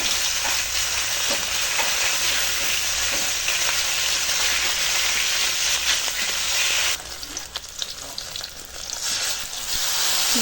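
Dried red chilies, bay leaf, five-spice seeds, green chili and ginger frying in hot oil, a loud steady sizzle that crackles on throughout and drops slightly for a moment near the end.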